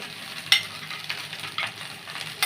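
Gobindobhog rice with paneer is stirred in a frying pan, a soft continuous sizzle with scraping spoon strokes and a few sharper clinks, close and fairly quiet, with no talking.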